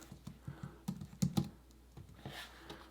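Typing on a computer keyboard: a quick, uneven run of close clicks and key taps, then a few softer strokes, with no talking.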